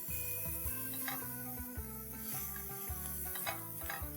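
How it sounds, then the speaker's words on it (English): Capsicum stir-fried on high flame for street-style pav bhaji gives a steady, close sizzle with occasional stirring scrapes, heard beneath a continuous tonal background. "Let's stir fry this on high flame."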